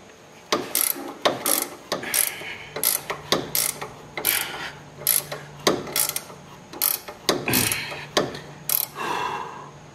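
A hand ratchet tightens the bolts on the lower control arms of a Honda Accord. It gives repeated close, crisp clicking strokes in uneven bursts, with no talking.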